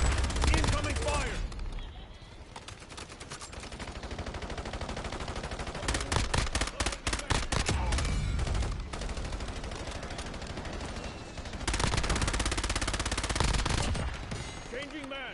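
Sustained gunfire from the Warzone video game, with rapid automatic bursts and scattered shots crackling loudly throughout, a brief lull partway in, mixed with faint game effects and background chatter.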